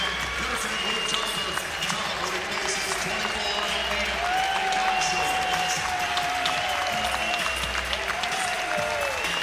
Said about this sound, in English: And the crowd rises to clap for him.